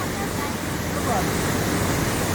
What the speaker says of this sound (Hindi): ये कितने ऊपर से, अर्थात अन्नपूर्णा हिमालय की गोद से बहता हुआ पानी जिस तेज़ी से नीचे आ रहा है